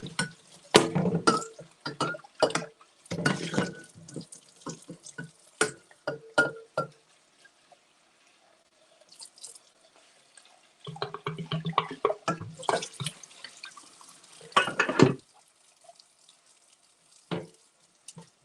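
A pan that held boiling pasta water gets washed at a kitchen sink: bursts of running and splashing water with clatter come in uneven spurts, pause for several seconds, then return before tapering off.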